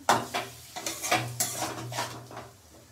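Spices are sautéed in a pan with repeated scraping strokes of a spoon against the metal, set in a soft rhythm over a low sizzle.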